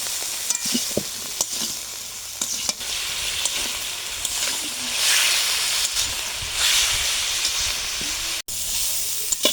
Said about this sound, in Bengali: সুন্দর করে কপিটা ভেজে নেব।